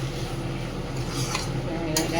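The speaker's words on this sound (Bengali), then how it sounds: "একটু তেল ফেলে ভাজা ভাজা করে" Cabbage sizzles and crackles in hot oil while a utensil scrapes and stirs the pan a few times, close by, with no talking.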